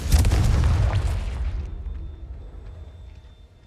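A Confringo spell explodes in Hogwarts Legacy with a loud, close boom and a long rumbling tail that fades over a few seconds.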